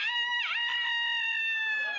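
A person mimics a rooster's crow with one sustained, warbling falsetto call that bends in pitch near the start and then holds steady, loud and close.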